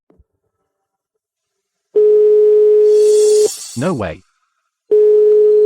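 A busy signal on a phone line as a call fails to connect: two steady beeping tone bursts separated by a pause, loud and clear, with a brief exclamation from a man between them.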